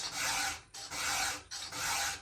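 Round 7/32 file rasping across a chainsaw chain's cutters, three steady strokes of even scraping, close up with brief pauses between passes and no talking.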